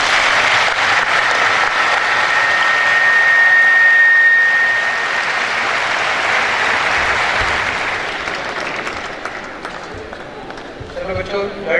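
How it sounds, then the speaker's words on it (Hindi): Loud, sustained audience applause for graduating students receiving medals and degrees at a university convocation, a broad dense wash of clapping that holds steady for most of the stretch before thinning out toward the end as a voice starts up. "उनके लिए ज़रा भरपूर ताली हो जाएगा"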